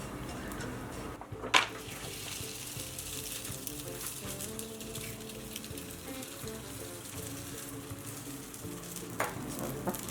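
Bele obbattu (holige), a sweet lentil-filled flatbread, sizzles steadily in oil on a hot pan, a soft continuous frying hiss with a brief louder clatter near the start and another near the end.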